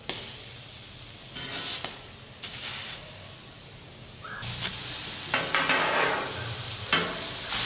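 Fish chicharrones frying in hot oil for a Mexican dish, a steady sizzle with bursts of crackling and stirring noises that swell and fade, close and alone with no talking.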